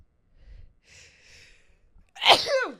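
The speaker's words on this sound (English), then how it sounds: "I was really happy that sneeze came out" Soft breathing and faint murmurs lead into one loud, sharp sneeze near the end, close to the microphone.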